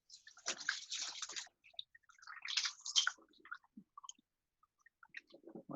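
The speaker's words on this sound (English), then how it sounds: "Let me for a second wash my hands" Hands washed under a running tap after handling sticky matzo ball dough in a home kitchen, with bursts of splashing water and rubbing, then scattered small wet squishes, close and moderately quiet.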